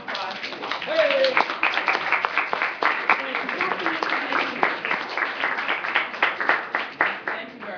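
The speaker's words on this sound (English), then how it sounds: "A round of applause, please." Applause from the audience at a general assembly meeting, steady crowd clapping with sharp individual claps scattered through it, and a voice or cheer rising briefly near the start.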